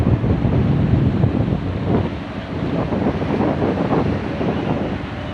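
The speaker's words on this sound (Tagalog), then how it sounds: "Yan mga idol ang hangin." Strong wind roars steadily across open water, buffeting the microphone, with the wash of waves underneath and no voices.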